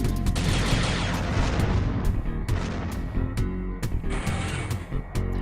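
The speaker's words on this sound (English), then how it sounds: "Kind of like the sound of the plasma cannon in Descent 3." Rapid, dense plasma cannon fire in the game Descent, a continuous barrage of sharp energy blasts with booming low rumble, loud and close, no talk.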